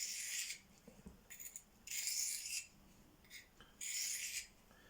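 Steel knife blade drawn across hand-held Venev diamond stones, bright raspy scraping strokes in several distinct passes with quiet gaps between them, close and fairly soft.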